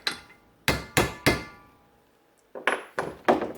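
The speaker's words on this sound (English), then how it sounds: "So what I do is use an old socket, tap it down" A hammer taps an old socket down onto a vehicle U-joint in a sharp series of close metallic knocks: three quick strikes, a pause, then four more, each ringing briefly before fading.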